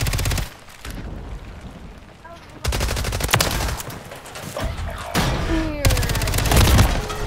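Rapid automatic FJX Horus gunfire in the Call of Duty video game, loud sustained bursts of shots broken by short pauses, with other battle noise in the mix.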